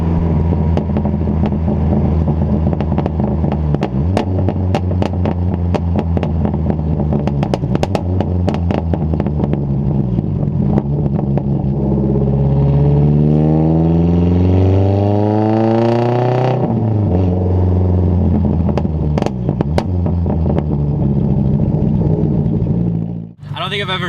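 A cammed 2.5-litre Mazda Miata NC with its muffler deleted roars loudly in third gear at about 30 mph, engine note rising and falling with sharp gunfire-like pops and crackles throughout, very close and continuous.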